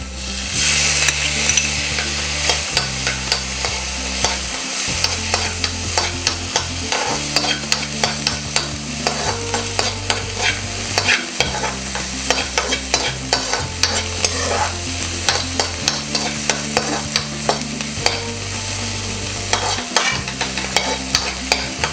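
Whole garlic cloves and a little tomato sauté lightly in a pan, a loud continuous sizzle under brisk, rhythmic stirring and metal clinks against the pan, heard close with no voices.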